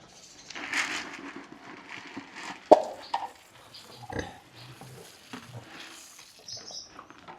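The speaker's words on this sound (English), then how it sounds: "Here's some pigs. Here's some pigs." Pigs on a farm grunting and oinking, scattered short snorts and grunts at close range with rustling and shuffling, fairly quiet between bursts.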